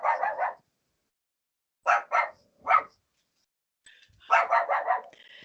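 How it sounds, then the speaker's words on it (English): A pet dog barks in quick bursts of several yaps each, separated by silent gaps, fairly close and loud in an otherwise quiet room. "my doggy's barking"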